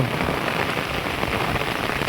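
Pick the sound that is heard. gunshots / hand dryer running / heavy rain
heavy rain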